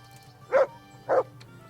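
A dog in the video game Kingdom Come: Deliverance gives two short, evenly spaced barks, moderately close, over a low steady background.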